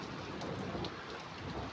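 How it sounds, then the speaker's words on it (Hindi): Heavy rain falls in a steady, dense hiss of drops on surfaces, even and continuous throughout, fairly soft in level, with no voices. "फिर बारिश आ गई है, देखो कितनी ज़ोर से हो रही है।"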